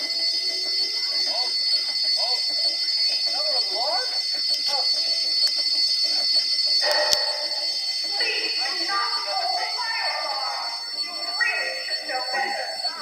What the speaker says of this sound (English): We're gonna show you something more about fire alarms